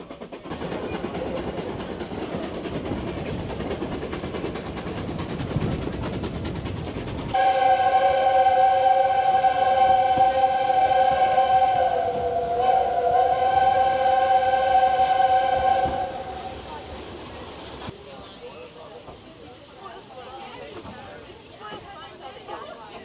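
A steam train on the Overberg line between Bot River and Elgin runs with a rumbling chug, then sounds a long, loud multi-tone whistle that holds for several seconds before fading back into running noise.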